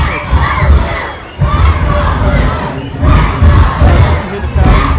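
Stadium crowd cheering at a men's college soccer match between Michigan and Michigan State, loud surging roars and shouts rising and falling in waves, with a commentator's voice mixed in.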